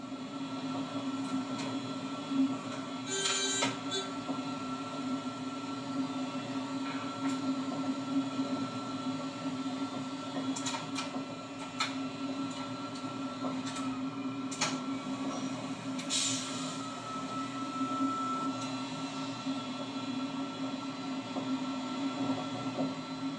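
Cab-level rumble of the Belgian BB 1191 electric locomotive running from Brussels, a steady droning hum with intermittent clicks, clanks and brief squeals from the rails, no talking.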